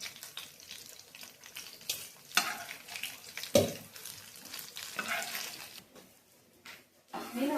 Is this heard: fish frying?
yes